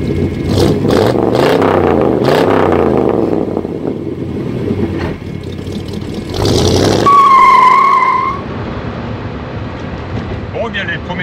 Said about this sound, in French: les premiers tours de roue sont plutôt positifs, la conduite est sympa